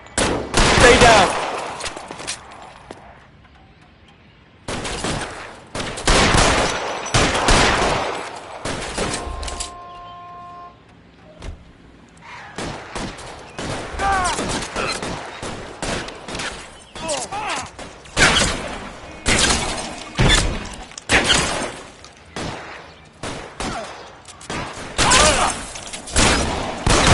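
Gunfire in the crime game L.A. Noire, bursts of loud rapid shots and fusillades coming in clusters with short lulls between them, alongside shouted voices.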